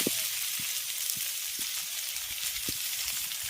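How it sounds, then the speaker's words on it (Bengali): Mustard-cumin paste frying in a pan, a bright continuous sizzle heard up close, with a few soft low knocks of the utensil underneath. "এবার আমি এর মধ্যে কিছু মশলা দিয়ে দেবো দিচ্ছি সর্ষে জিরে বাটা"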